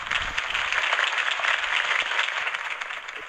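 A steady wash of crowd applause follows a political campaign speech in a Batman video game, dense and even throughout with no voices on top.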